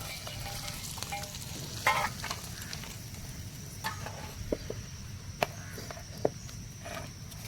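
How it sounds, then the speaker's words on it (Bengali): Quiet, steady frying sizzle of crab with coriander, cumin, chilli and black pepper in a pan, with a few light clinks and scraping stirs scattered throughout. "এই আমার কাঁকড়াগুলো ভালো ভালো করে ভাজা হয়ে গেছে মশলা দিয়ে"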